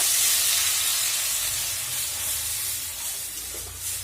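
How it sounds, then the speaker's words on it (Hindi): Gram flour and yogurt batter poured into a pan of browned onions, a loud close sizzle and steamy hiss that gradually settles into a softer continuous frying crackle, with no talking. "तो बस अब मैं डाल दूंगी इसमें अपना तैयार किया हुआ बेसन और दही वाला बैटर।"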